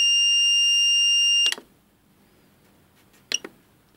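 A boiler controller's alarm buzzer sounds a steady high electronic tone for about a second and a half, then cuts off, followed by two short clicks or beeps a couple of seconds later, close and alone.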